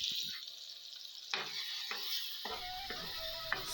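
Garlic sizzles in hot desi ghee for a tadka, a continuous bright frying hiss with a few stirring scrapes and clinks of a pan.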